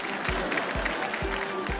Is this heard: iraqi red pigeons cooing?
no